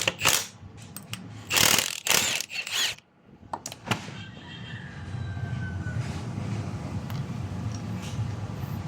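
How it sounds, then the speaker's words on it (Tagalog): Sharp metallic clanks and ratcheting clicks come in bursts as a castle wrench works loose a castle nut on a Honda Dash motorcycle, followed by a quieter, steady mechanical rattle. "Gumamit din ng castle wrench dito sa kabila."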